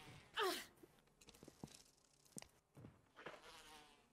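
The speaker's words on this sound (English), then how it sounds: "Oh, bees!" Bees buzzing in the Resident Evil video game, a faint whirring drone with soft rises and falls, quiet and mostly alone with a breathy sound near the start.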